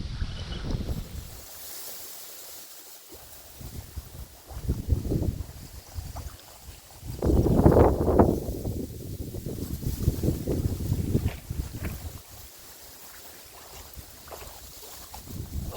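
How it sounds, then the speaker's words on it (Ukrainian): Strong, gusty autumn wind buffets the microphone in rumbling surges, strongest midway, with water and boat noise underneath during pike fishing. "А який вітер!"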